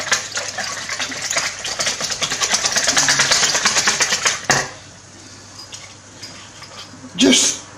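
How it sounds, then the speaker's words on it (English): A whisk beats crepe batter in a bowl with rapid, close, scraping rhythmic strokes for about four seconds, then stops, followed by a brief clatter near the end. "Now the whisk. We whisk it a little bit up."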